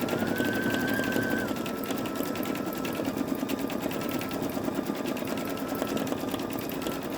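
An older Babylock Esante embroidery machine stitching flower designs onto a terry cloth towel, a steady, continuous mechanical whir of rapid needle strokes running throughout at close range.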